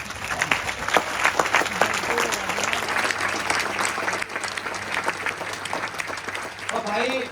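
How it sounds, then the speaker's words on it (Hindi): A standing audience claps loudly and continuously at an entrepreneurship event, dense applause filling the room with some crowd voices mixed in. "इनके लिए खड़े होकर ताली बजाएं।"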